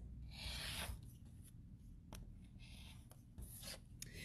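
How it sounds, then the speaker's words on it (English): Rotary cutter slicing along a ruler to trim the sides of a quilt block, giving several short, close rasping strokes with brief pauses between them, quiet and with no talking. "So we're going to go ahead and trim it. So we trim off these 2 sides."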